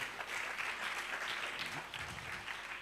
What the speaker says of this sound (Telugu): అందరూ కూడా చప్పట్లు కొడదాం, సరిపోవట్లేదు.